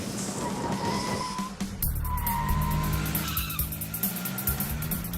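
Mitsubishi Mirage tires squealing through sharp maneuvers on a cone course, sustained high-pitched skids that rise and fall in overlapping bursts, loud and close with engine noise underneath.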